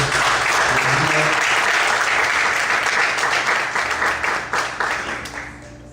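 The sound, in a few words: congregation applauding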